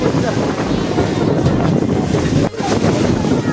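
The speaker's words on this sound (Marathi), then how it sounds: "तर मंडळी बोट खूपच उडते" Boat on open sea heading to Khanderi fort off Alibaug, with steady broadband wind and water rush throughout, close and loud, a brief dip midway.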